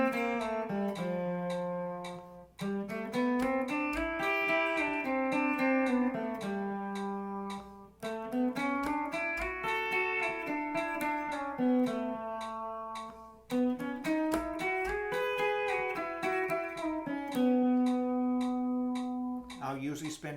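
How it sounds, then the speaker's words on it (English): A piano warm-up exercise with the left hand and sustain pedal runs a little scale pattern up and down, repeated in several smooth, connected phrases with short breaks between them, clear and close with no voices. "a warm-up exercise that now involves the left hand and some pedals with a little scale"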